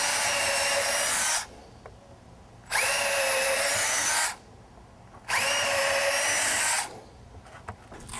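A power drill bores holes through a wooden board for a patio cover in three long, loud, close whirring bursts, each about one and a half seconds long and separated by short quiet pauses.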